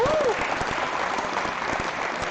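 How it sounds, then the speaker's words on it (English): Audience applause for the judges at a robotics league tournament awards ceremony, a steady dense wash of clapping filling the room with a brief voice sounding over the start. "I want to make sure we give a round of applause to our judges"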